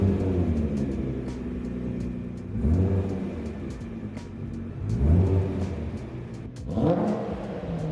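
A Nissan R35 GT-R with a full exhaust system revs repeatedly, roughly every two seconds, each blip rising into a throaty exhaust roar then falling back to idle.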